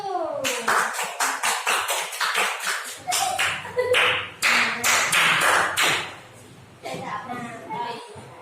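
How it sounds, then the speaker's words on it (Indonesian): A classroom group of children claps for the winning team, a run of quick, uneven hand claps that rises and falls in bursts over several seconds, close by and fairly loud. "tepuk tangan untuk kelompok 1"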